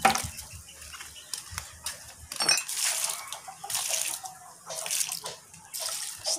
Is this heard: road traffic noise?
no